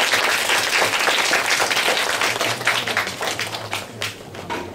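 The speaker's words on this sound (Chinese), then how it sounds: "所以我们是不是以最热烈的掌声来欢迎我们今天讲师李毅伟老师？" A seated audience of parents and children at a holiday science-plaza lecture bursts into warm, sustained applause to welcome the speaker; dense clapping stays loud and even, then thins slightly toward the end.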